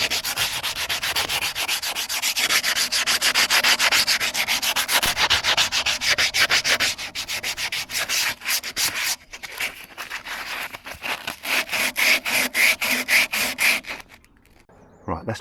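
Abrasive sanding of rust from a steel caravan tow hitch, a loud, close, continuous scratchy rasp in quick rhythmic strokes that thin out and briefly stop near the end.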